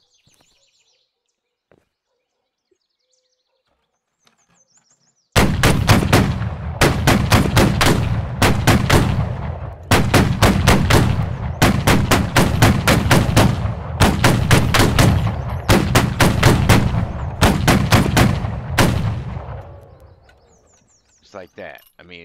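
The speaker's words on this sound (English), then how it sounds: "If you can do a 3-round burst and have somebody spot for you" A Gatling gun in the Battle Cry of Freedom video game fires loud, close rapid bursts, a dense string of short volleys lasting over ten seconds, with someone briefly speaking before and after.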